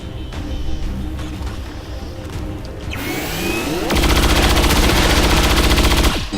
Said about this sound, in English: But luckily, good shooting, Elvis.